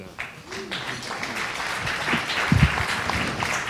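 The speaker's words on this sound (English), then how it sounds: "Give yourself a big round of applause." An audience at a market research conference talk claps for a moment, a moderate, scattered patter that blends with a voice speaking over it.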